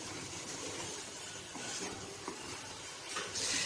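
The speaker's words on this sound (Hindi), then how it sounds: "हरी मिर्च भी साथ डाल देनी है और ये मसाले, फिर हमने इनको भून लेना है," Green chilies and spices frying for a potato and peas curry, a faint, steady hiss and sizzle with occasional stirring scrapes, heard close and alone.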